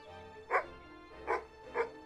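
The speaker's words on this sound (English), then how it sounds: "I need to hear that bark again" A dog in a video game barks three times in short, sharp bursts, close and distinct, with quiet pauses between each bark.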